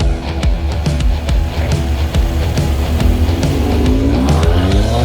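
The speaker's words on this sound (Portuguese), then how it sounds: "agora, vamos acelerar esse carro para a galera vir junto, né, Navarro?" A Mercedes-AMG C43 with its V6 biturbo engine accelerates on a city street, a steady close engine drone whose pitch climbs noticeably over the last couple of seconds.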